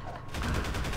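Gunfire in the video game Prop Hunt: a dense, rapid burst of shots runs through the whole second, loud and close, with no talk over it.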